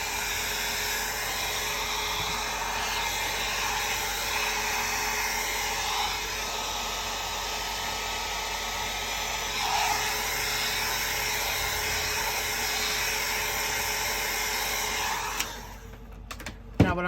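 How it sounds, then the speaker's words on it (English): A hair dryer blows over alcohol ink artwork in a continuous, steady whir held close for the whole stretch, then switches off near the end with a few small clicks. "I like to hit it with the hair dryer."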